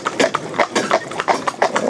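Hooves of a big horse and a little pony driven together as a pair, a steady run of close clip-clop beats, several per second, with no talk.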